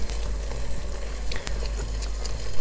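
Chicken drumsticks being turned with a fork inside a multicooker pot, with a steady dense sizzle and soft scraping and clinking throughout, close and fairly loud.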